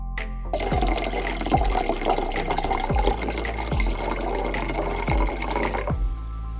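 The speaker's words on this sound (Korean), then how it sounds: "(1리터의) 물에 메네델을 조금 희석해서 미리 만들어 놓습니다." Water runs and splashes into a container while one liter of Menedel root activator solution is diluted, a steady close pour with a few brief knocks and splashes over about six seconds, no voices.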